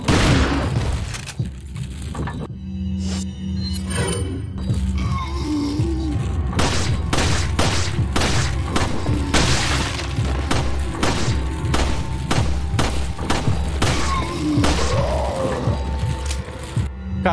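Gunfire and impacts in the video game Resident Evil 4 HD, inside a castle: a rapid string of sharp shots and thuds with crashes and breaking sounds, loud and packed, with faint game noises between bursts.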